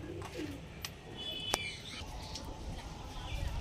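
Pigeons cooing and calling, soft and somewhat distant, with a few brief chirps over a low, steady background hum.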